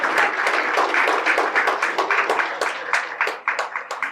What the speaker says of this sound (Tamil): கைத்தட்டுங்க வசந்த் சார், கைத்தட்டுங்க